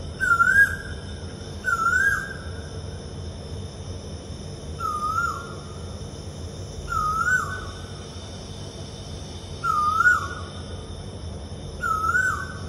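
A person imitates a koel, giving a repeated rising whistled call about every two to three seconds over a steady background hum, with no other talking.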